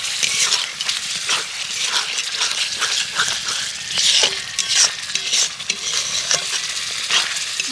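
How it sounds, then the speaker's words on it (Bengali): Spice masala with sour yogurt stirred and sautéed in a hot pan, a loud close sizzle with repeated scraping strokes of the spoon at an uneven rhythm, no voices. "তো টক দইটা দেওয়ার পরেও মশলাটা কষাবো।"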